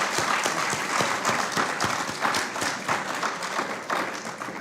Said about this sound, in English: So let us give him a lusty round of applause.